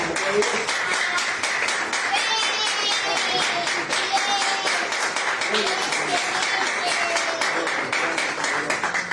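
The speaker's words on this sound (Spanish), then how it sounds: "Denle un fuerte aplauso al Señor" A congregation claps loudly and steadily at a church service, with dense, sustained applause mixed with cheering and voices throughout.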